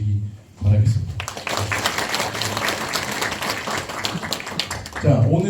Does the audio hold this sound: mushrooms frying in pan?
no